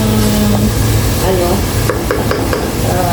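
Onion and tomato sauté in a hot pan with a steady sizzle and occasional stirring clinks, while a person talks over the cooking.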